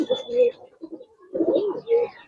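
Racer and Giribaz coloring pigeons coo in a loft, a close series of soft throaty rolling coos in short bursts with small gaps between them.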